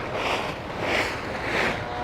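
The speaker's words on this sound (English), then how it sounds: "that is the sound of me being childish, kicking the autumn leaves around" Feet kicking through dry autumn leaves outdoors, producing rough rustling bursts that swell and fade in roughly three pulses, close and with no voice.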